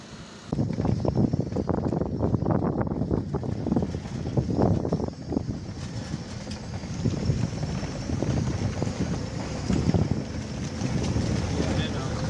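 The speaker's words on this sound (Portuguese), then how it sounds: "Água descendo aí de boa. O barulho é lindo." Cold, clean water pours down the Cachoeira do Sítio Grito waterfall in a constant loud rush, with wind buffeting the microphone throughout.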